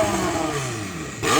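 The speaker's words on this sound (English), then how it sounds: "let's hear the McLaren" An 1100 hp McLaren 720S engine revs in one brief, loud, raspy burst that swells sharply at the end, with no one talking.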